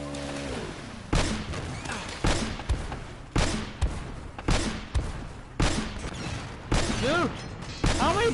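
Gunfire in the video game Uncharted: Drake's Fortune, heavy shots in repeated bursts about once a second over a steady background rumble, loud and punchy, with brief voices between them.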